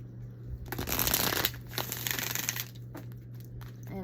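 Tarot cards shuffled by hand, a dense papery riffle of rapid flicking and slapping that swells for about two seconds, then softer, scattered card sounds, close and moderately loud with a steady low hum underneath.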